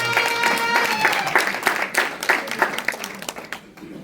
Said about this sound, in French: Applaudissez très très très fort